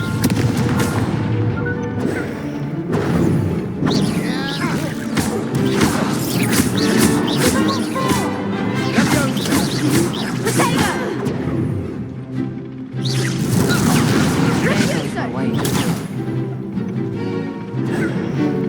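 Repeated spell blasts, explosions and crashes from combat in the video game Hogwarts Legacy, loud and dense, overlapping in near-continuous bursts with a brief lull partway through.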